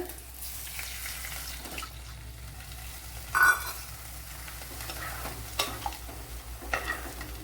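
Tamarind water is poured into a hot pan, setting off a steady sizzle with a burst of splashing midway and some stirring.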